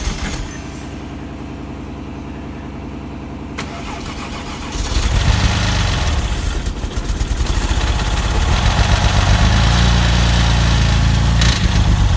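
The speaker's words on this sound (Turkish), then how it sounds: "Su eklemeden, tam tamamlamadan marşa basıp kontrol edeceğiz." A Porsche 996 Turbo boxer engine cranks over with the starter for several seconds, then catches and settles into a loud, steady idle that continues to the end.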